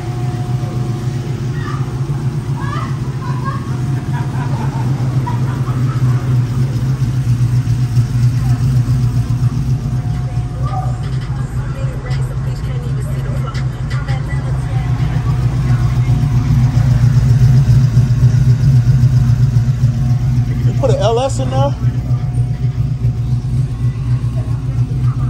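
A swapped 5.3-liter LS V8 with a stage 2 cam in an Oldsmobile Cutlass holds a steady, deep, lumpy idle close by, swelling briefly louder mid-way, while people talk over it.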